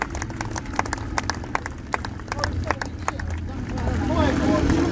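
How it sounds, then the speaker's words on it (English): Outdoor crowd applauding at a Royal Signals White Helmets motorcycle display team show at a steam fair, with scattered sharp claps building into denser, louder clapping near the end, under an announcer's voice. "let's have a huge round of applause there for the tableau as they sit back up."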